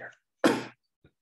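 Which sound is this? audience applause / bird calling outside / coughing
coughing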